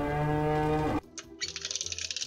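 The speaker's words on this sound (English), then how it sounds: "The cow says..." A single cow lets out one full, loud moo lasting about a second, close to the microphone, and then breaks off into softer scattered noises.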